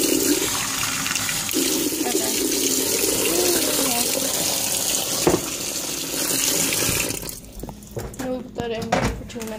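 A kitchen tap runs water steadily into a cup or sink for chocolate drink, a continuous rushing hiss that gives way to clinks and handling noises near the end.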